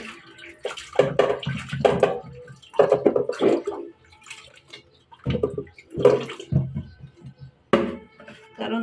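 Pieces of elephant apple being rinsed by hand in a container of water, with repeated sloshing, splashing and dripping bursts in an irregular rhythm, close and fairly loud, with no talk.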